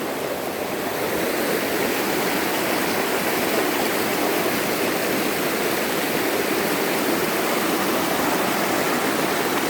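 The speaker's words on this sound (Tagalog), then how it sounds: "Lakas naman ng tubig, oh." Strong river water rushes at Batong Buaya in the Philippines, a loud, steady, close roar of flowing current with no pauses and no voices.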